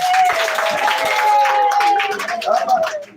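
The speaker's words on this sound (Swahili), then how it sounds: "tupige makofi mazuri" A church congregation claps for a child, the clapping mingling with cheering voices and a sustained vocal tone, loud and close.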